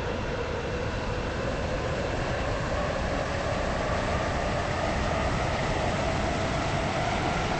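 A Class 717 train runs in the Stepford County Railway game on a Stepford Connect service to Morganstown. It gives a steady, loud, continuous rolling hum with a faint rising whine and no gaps for the whole stretch.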